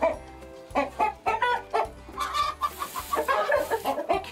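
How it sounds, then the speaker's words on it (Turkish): Australorp hens and roosters cluck in a farm coop, a busy run of close, overlapping clucks and squawks with a rhythmic low thumping underneath. "Astrolorp kümesinde 9 tane tavuğumuz var."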